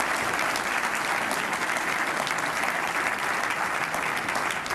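An audience applauds the Aurora Civic Center Authority at a city's State of the City address, a dense, loud and sustained clapping from a large crowd.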